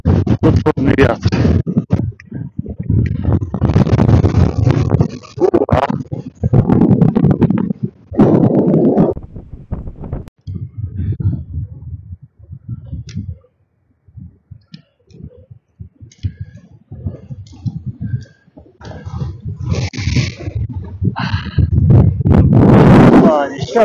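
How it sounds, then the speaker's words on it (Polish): Strong mountain wind buffets the microphone on the summit of Kasprowy Wierch, loud, gusty rumbling roars with clicking bursts that come and go, easing near the middle, while a person talks intermittently over it. "Potworny wiatr."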